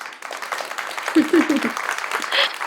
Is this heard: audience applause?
yes